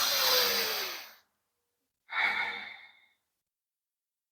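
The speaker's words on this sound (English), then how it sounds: "Exhale, lengthen and side bend to your right." Slow, audible exhale of breath during a yoga side bend, followed by a second shorter breath after a pause, close and soft, no talking.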